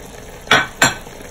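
Sausage and bell peppers sizzling in a pan as they are stirred, two quick close scraping strokes over a soft background sizzle.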